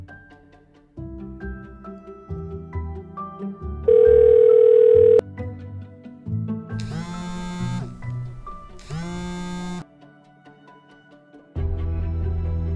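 A phone call goes unanswered as an electronic ringtone repeats, a melody of clear tones broken by a sustained steady beep and bright bursts, with no voice picking up.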